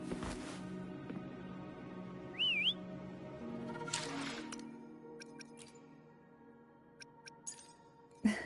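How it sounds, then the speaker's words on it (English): In the video game Wuthering Waves, a character gives a single short wavering whistle to call a companion. It rises and falls clearly over quiet ambient music, and a few faint clicks and chimes follow. "Try whistling."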